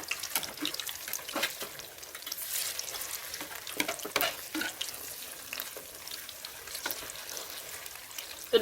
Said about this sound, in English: This one too, I make sure it is well fried.